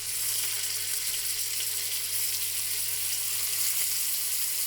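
Steak frying in a big pan, a steady, loud, close sizzle with crackling spatter running unbroken and without talk.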